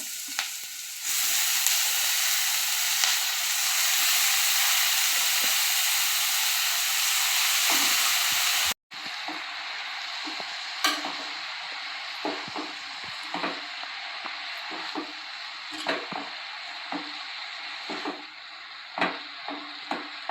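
Arai keerai greens fry in a pan with a little asafoetida: a loud, steady sizzle and hiss, then a short break before softer sizzling with scattered scraping and stirring knocks.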